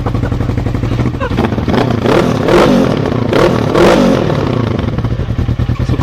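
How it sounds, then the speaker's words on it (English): An engine revs up and down several times just after a cold start in snowy weather, a loud rising and falling roar over a rough, clattering idle, heard up close. "Some cold start revs."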